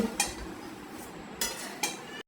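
A metal spoon scrapes and clinks against a pan while poha is tossed and stirred, a few distinct soft clatters spaced irregularly over quiet background.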